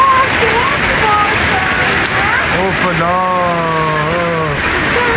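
Heavy rain pours steadily in Kashmir, a dense continuous hiss beneath a voice speaking loudly over it.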